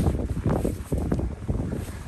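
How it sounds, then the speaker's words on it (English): Strong blizzard wind in a snowy Buffalo street, gusting and buffeting the microphone with a steady rough roar and no voices. "the wind conditions are so brutal"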